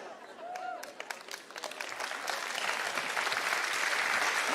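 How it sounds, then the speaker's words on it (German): Christian conference audience bursting into applause, starting with scattered individual claps and swelling into loud, sustained clapping from a large crowd, with a brief voice heard early on. "So that applause is not for me"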